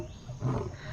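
A lion lets out a short, low roar that swells briefly and fades, faint and somewhat muffled, with no voices over it.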